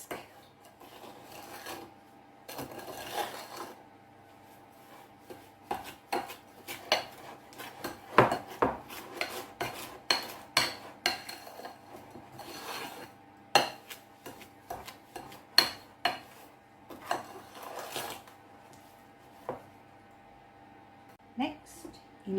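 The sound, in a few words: creaming cake ingredients together with a whisk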